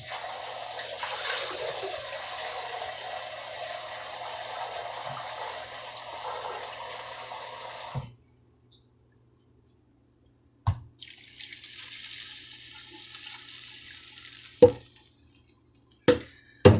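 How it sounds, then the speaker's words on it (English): Two cups of water pour into a crock pot of beef stew, a steady close splash and trickle for several seconds. After a short silence come brief clinks, a scraping clatter and a few small knocks. "I'm going to actually add 2 more cups of water to the stew."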